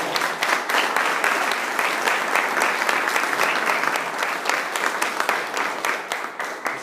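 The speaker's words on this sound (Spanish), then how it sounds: "¿Cuántos pueden alabar a Jesucristo dándole un fuerte aplauso?" A church congregation bursts into loud, sustained applause in praise of Jesus Christ, dense clapping from many hands filling the room steadily and fading slightly near the end.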